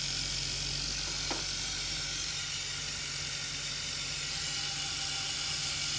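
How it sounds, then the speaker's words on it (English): An AC compressor with a knocking rod, run as a waste oil burner, whirs steadily at close range with a constant low hum, a faint ticking rattle riding on top and one sharp click early on. "She's got a rod knocking, but it is spinning."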